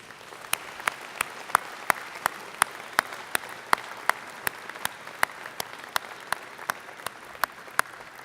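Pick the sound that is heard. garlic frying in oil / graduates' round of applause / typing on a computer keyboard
graduates' round of applause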